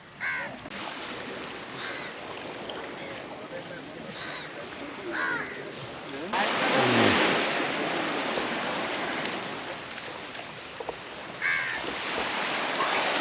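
Crows caw in short bursts over wind and the wash of surf, with a loud gust of wind roaring through the middle.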